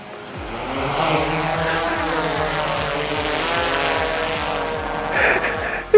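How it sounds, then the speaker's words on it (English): A DJI M30T Enterprise drone lifts off and flies, its rotors giving a loud, steady buzzing whine with a rising and falling pulse, close by throughout with no talk. "my friend is ready to launch this beautiful drone"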